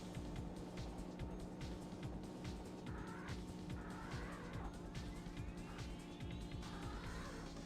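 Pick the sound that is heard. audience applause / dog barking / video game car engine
video game car engine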